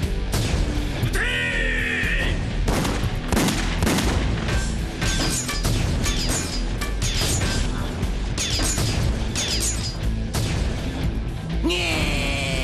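Rapid volleys of gunfire crack and boom in the anime Sonic X over a dense, chaotic background of crashes and mechanical noise, with brief voices mixed in.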